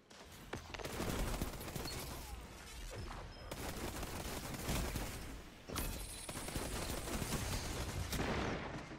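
Gunfire rattles through a Destiny Iron Banner match as a shotgun gives way to the Thorn hand cannon, a dense barrage of shots and game effects with sharp bursts.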